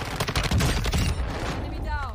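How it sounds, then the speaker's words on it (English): Rapid bursts of gunfire in a Warzone match during a 2v2 tournament, loud and dense, with a player's voice talking over the shots. "I'm shooting at you guys"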